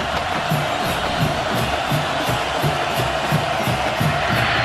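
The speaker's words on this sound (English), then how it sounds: "Crowd here trying to inspire the Virginia Tech defense on 3rd and 11" A stadium crowd roars on a chilly night at the 2006 Clemson at Virginia Tech college football game, urging on the home defense on third and long. The noise is a loud, sustained wash with a rhythmic pulsing chant.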